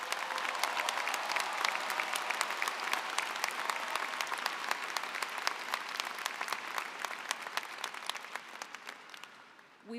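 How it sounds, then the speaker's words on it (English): Large audience applauds award winners at the 2024 Michigan Ross commencement ceremony, a steady wash of many hands clapping for the full stretch, fading slightly near the end. "Big round of applause for all of our award winners."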